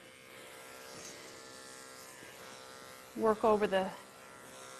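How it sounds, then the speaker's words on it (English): A corded electric pet hair clipper fitted with a guard comb gives a steady, fairly quiet buzz throughout, with a person speaking briefly over it near the end. "when I'm working with a corded clipper, I keep the cord over my shoulder so it stays out of my way"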